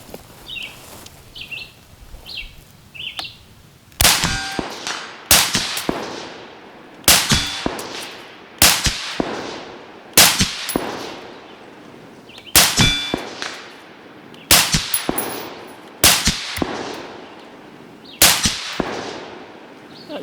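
A Steyr AUG LMG fires short bursts every couple of seconds at steel targets 250 yards away. Each burst is followed by sharp metallic clangs ringing back from a distance.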